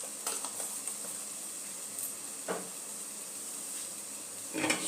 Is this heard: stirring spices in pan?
yes